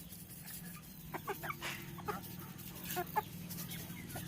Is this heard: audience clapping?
no